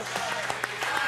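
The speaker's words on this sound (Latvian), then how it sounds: "Aplausi zālē, aplausi Latvijā visā!" A crowd applauds in a hall at a Latvian karaoke TV championship broadcast, scattered claps rising over a murmur of voices.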